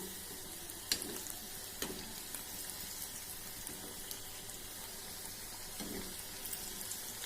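Moong dal snacks fry in hot oil on a high flame, a soft steady sizzle with a few light clinks and taps as the pieces are slowly turned one by one.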